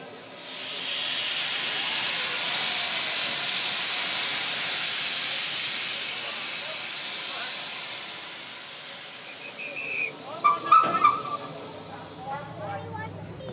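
A steam locomotive on an Irish line vents a long, loud, broad hiss of steam that fades after several seconds, followed by clanks and a few people talking nearby.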